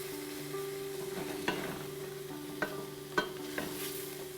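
Quiet, steady sizzling of chopped tomatoes in a pan with a few sharp clinks of a utensil stirring, plus a faint low hum in the background.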